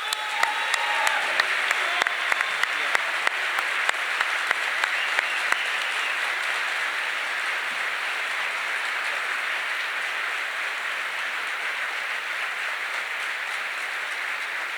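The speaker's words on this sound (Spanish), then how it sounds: "Por eso, otro aplauso para Agustín." An audience applauds for Agustín Laje at a book launch, a dense, steady wash of clapping that holds loud and continuous for the full stretch, with a few sharper claps standing out early on.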